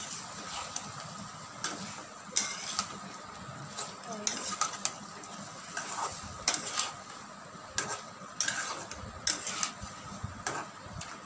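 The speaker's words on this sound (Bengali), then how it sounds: "এই যে আলু ডিমগুলো দিয়ে দিচ্ছি একসাথে, কষাই ফেলবো।" Potatoes and eggs are stir-fried together in oil in a pan, with a continuous sizzle broken by repeated scraping and clinking strokes of a spatula against the metal.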